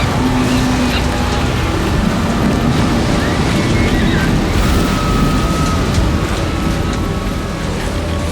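Roaring flood waters surging in a continuous, dense wash of turbulent water and wind-like rush, loud and unbroken throughout.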